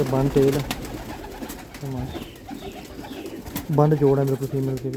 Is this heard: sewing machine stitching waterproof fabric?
no